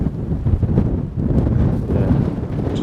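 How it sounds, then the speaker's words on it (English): Strong wind funnels through the area during a roe buck stalk, buffeting the microphone with a loud, continuous low rumble and gusty swells, no talking. "This wind's pretty strong funneling through here"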